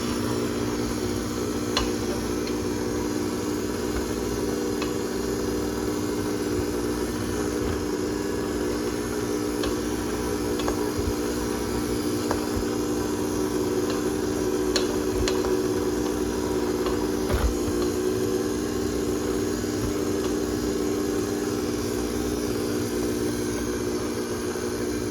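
An electric mixer on low speed creams peanut butter and butter, giving a steady motorized hum and whir that runs continuously at moderate loudness, with faint occasional ticks and no talking.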